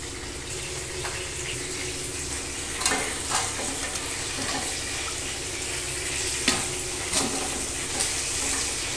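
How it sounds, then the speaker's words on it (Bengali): Panch phoron spices and dried red chillies frying in hot oil give a steady, close sizzle throughout, with a few sharper crackles and pops rising above it. "আমি ওখানে 5 ফোড়ন আর শুকনো লঙ্কা দিয়ে দিলাম। ভালো করে এটাকে ভেজে নেব।"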